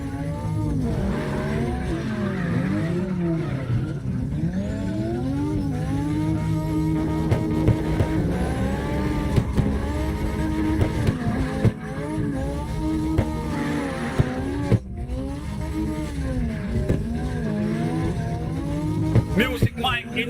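Engines in the CarX Drift Racing Online video game whine and rev continuously as several cars drift, with sweeping pitch swoops and short tire squeals layered over background chatter.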